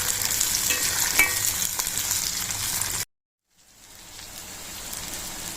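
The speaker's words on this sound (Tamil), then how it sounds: "சின்ன வெங்காயம் நல்லா வதக்கிக்கலாம்" Small onions sautéing in hot oil for a goat intestine curry give a steady, close sizzle with stirring scrapes, broken by a half-second silence before the frying returns.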